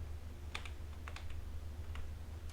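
Typing Python code on a computer keyboard, a short burst of light key clicks in small clusters, close by over a steady low hum.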